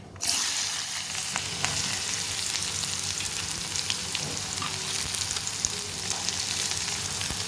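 Mustard seeds, a dried red chilli, and chopped carrots and beans fry in hot oil, giving a steady, close crackling sizzle that runs throughout without any talk.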